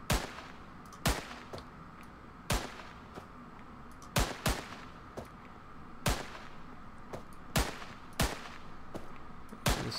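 Gunfire from a modded Minecraft game, with about ten loud, sharp shots spaced roughly a second apart, sometimes in quick pairs, over a steady low background hum.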